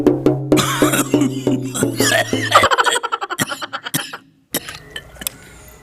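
Repeated coughing and throat noises from a person, in quick irregular bursts, loud and close, with voice-like sounds mixed in.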